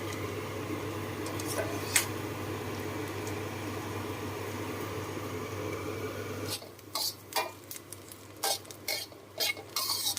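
Chillies, shallots and garlic dry-roasting in a pan for Thai pounded Nile tilapia chilli dip, a steady close scraping and stirring hiss for six seconds, then sparser, louder spatula clacks and scrapes against the pan.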